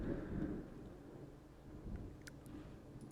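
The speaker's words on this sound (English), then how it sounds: "The thunder is intense." A deep, distant rumble of thunder rolls through steady background rain, low and sustained, with a few faint crackles near the end.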